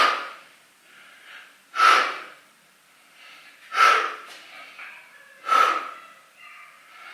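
Exercise breathing during a strength workout, three sharp loud breaths about two seconds apart, alternating with softer quieter breaths in between, close to the microphone with no talk.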